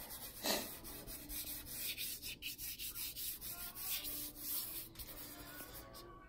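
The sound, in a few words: rubbing soft pastels on paper with fingers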